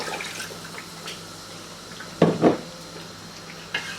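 Water poured into a cooking pot of fried mutton and tomatoes for masoor dal gosht, with a soft running splash and a sharper clatter of metal utensils and pot midway, close and fairly quiet, no talking.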